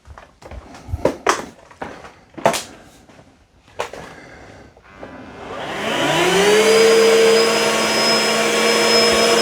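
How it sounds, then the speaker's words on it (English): A Bissell SpinWave wet vacuum mop motor starts up and runs as a steady, loud whine with a rising pitch, after a series of sharp clicks and knocks. "I'm gonna turn the vacuum and the mop."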